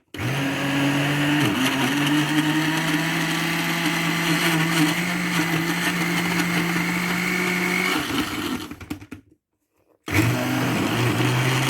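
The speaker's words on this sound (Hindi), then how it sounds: "अब मैं इसको ब्लेंड करने लगी हूँ।" A covered blender whirs loudly and steadily for about eight seconds, mixing an Oreo milkshake made thick with cream and ice cream, then winds down, falls silent briefly, and starts up again.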